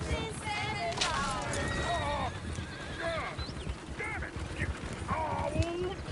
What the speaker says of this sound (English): Shit, horses! Damn horses!